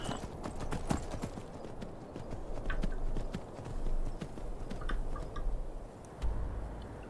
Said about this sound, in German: Also sind wir mit dem Pferd relativ schnell.